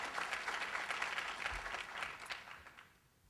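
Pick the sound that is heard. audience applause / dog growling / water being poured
audience applause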